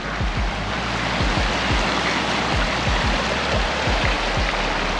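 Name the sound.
swollen river rushing after heavy rainfall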